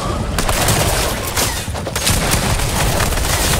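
Loud, rapid gunfire in the Fortnite battle royale game, with dense overlapping bursts of shots that continue without pause through the whole few seconds.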